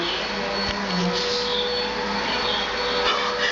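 A vacuum cleaner runs as a steady, loud whirring drone close by, unbroken for a few seconds with a slight tonal hum riding on the broadband rush.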